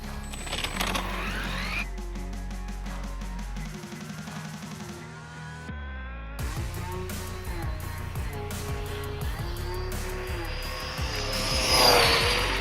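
An Arrma Big Rock V3 RC car with a 3665 motor on a powerful 4S 8400 pack runs at full throttle, its electric motor whining up and down in sustained rising pitch sweeps, loud and varying as it passes.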